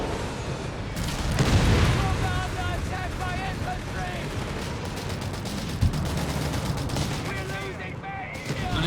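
Nebelwerfer rocket barrage in the game Company of Heroes 3, a dense roll of launches and impacts that rumbles continuously with sharp cracks, mixed under battle noise and a voice talking over it.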